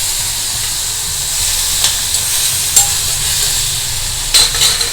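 Tomato and onion sauté in a pan with curry leaves and turmeric, making a steady soft sizzle with a hiss of steam and a few light stirring scrapes.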